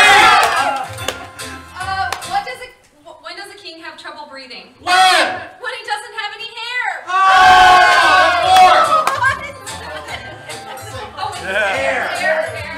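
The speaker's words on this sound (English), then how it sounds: "Cheer on, everyone!" Live game show audience shouting and cheering loudly in bursts, with excited voices and yells rising and falling, a brief near-quiet gap, then a big roar of crowd noise.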